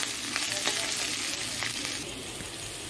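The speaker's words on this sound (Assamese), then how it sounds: "ইফালে ভেন্দি ভাজি বহাই দিছোঁ" Okra frying in a pan gives a close, continuous sizzle with a few faint clicks, steady and unaccompanied by talk.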